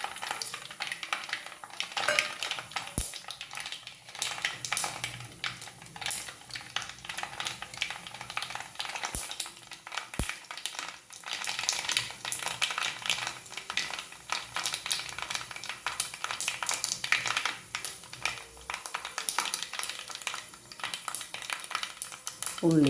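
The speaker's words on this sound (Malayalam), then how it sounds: "കടുക് പൊട്ടി തുടങ്ങി നമുക്ക് ഉലുവിട്ട് കൊടുക്കാം." Mustard seeds splutter in hot oil for Kerala fish curry, a steady scatter of sharp little pops and crackles, close and moderately loud, with occasional sizzling swells throughout.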